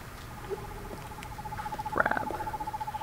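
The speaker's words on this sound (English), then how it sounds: "Is that a bird? An owl? Oh, maybe like an owl." Owl hoots in the snowy outdoor setting of the video game Perception, a short series of hollow calls near the middle over a steady low tone and faint background noise.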